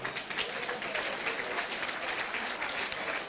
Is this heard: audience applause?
yes